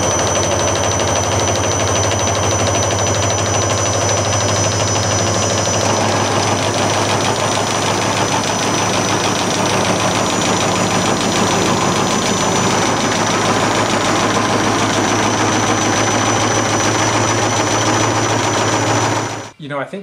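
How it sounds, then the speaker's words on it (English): A bicycle wheel fatigue tester runs continuously, spinning a wheel over bumps at high speed with a steady mechanical hum and rhythmic rattling, loud and unbroken until it stops at the end. "We actually have a fatigue tester that puts a wheel through its lifetime in about essentially a week."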